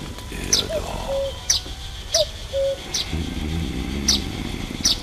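A two-note cuckoo call from the video game The Night of the Rabbit sounds twice, mixed with sharp high chirps and a low background rumble.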